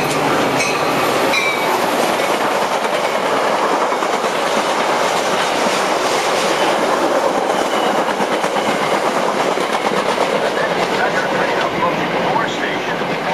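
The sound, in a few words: Metra express commuter train passing through station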